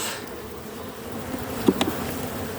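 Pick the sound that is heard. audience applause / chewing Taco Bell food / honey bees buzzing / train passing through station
honey bees buzzing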